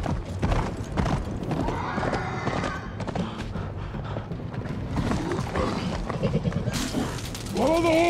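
Horse hooves clip-clop in a steady rhythm amid a busy, loud film soundtrack mix, ending with a clear, drawn-out whinny near the close.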